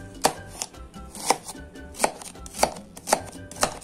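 A knife chops red onion on a cutting board, six sharp, evenly spaced strokes close up with quiet gaps between them, no voices.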